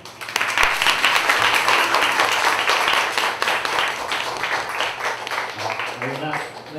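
An audience applauding at a talk and Q&A event, a sustained wash of many hands clapping at a steady level, with a voice speaking over it near the end.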